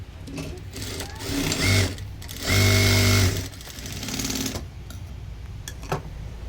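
A sewing machine stitches tucks into a blouse in several short, close bursts, its motor whirring loudly during each run and pausing in between.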